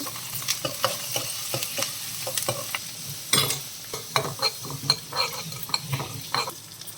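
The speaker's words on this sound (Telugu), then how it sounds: "కరివేపాకు వేసుకుందాం." Curry leaves and cumin dropped into hot oil for a bottle gourd masala curry, a steady close crackling sizzle with quick sharp pops throughout, no voices.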